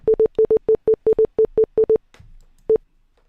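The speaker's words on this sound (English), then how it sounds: "You heard that Morse code, right?" Morse code beeps heard during a live Roblox session: a rapid run of a dozen clipped, evenly pitched tones, a brief rustle, then one final beep, loud and alone.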